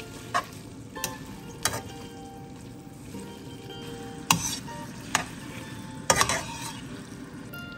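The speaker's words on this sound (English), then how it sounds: "I even add 3 or 4 more tablespoons of spaghetti water to the pan and mix" Spaghetti and a few spoonfuls of pasta water stirred together in a hot pan for carbonara, a soft steady sizzle with a few sharp clinks and scrapes of a utensil against the pan.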